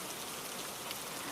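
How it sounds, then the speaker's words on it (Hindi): Heavy rain in a cartoon forest: a dense, steady hiss of downpour filling the scene evenly, loud and continuous with no voices. "बारिश बहुत तेज थी"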